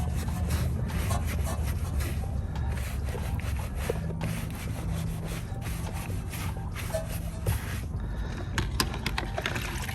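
A brush scrubs a car wheel coated in sudsy cleaner, producing continuous close, gritty rubbing strokes in a busy, uneven rhythm for the whole stretch, with no talking.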